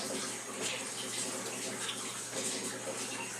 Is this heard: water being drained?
yes